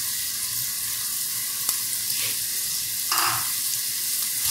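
Diced beef fries in a pan with garlic and onion, a steady hissing sizzle close by with a couple of brief utensil scrapes and stirs, and no voices.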